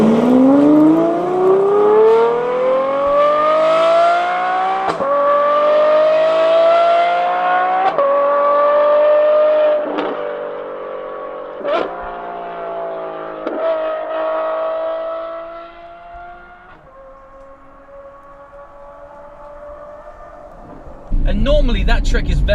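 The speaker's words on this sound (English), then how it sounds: "that V12 howl that, you know, people expect from a V12 engine" Ferrari F12 with a V12 engine revving hard, a loud high-pitched howl climbing steadily through several gear changes before easing off, with a brief burst of noise at the end.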